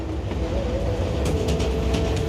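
A train rolling along in an arcade video game, a steady low rumble with a sustained tonal whine running through it, continuous and fairly loud with faint higher clatter toward the end.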